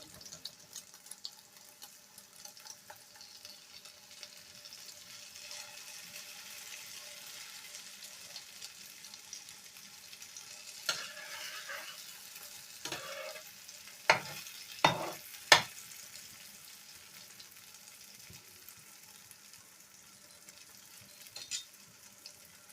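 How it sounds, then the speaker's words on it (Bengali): Paratha frying in a pan, cooked in egg with tomato, giving a soft steady sizzle with sharp scraping and clattering knocks from a spatula midway, with no talking. "এইভাবে কিন্তু প্রত্যেকটা পরোটা আমি ভেজে নেব।"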